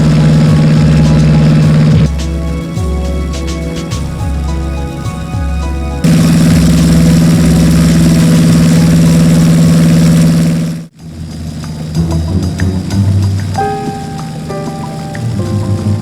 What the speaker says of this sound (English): the flight takes off from Halifax, headed for Greenland